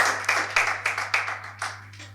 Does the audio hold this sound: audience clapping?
yes